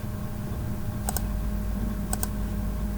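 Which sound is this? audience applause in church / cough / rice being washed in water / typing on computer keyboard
typing on computer keyboard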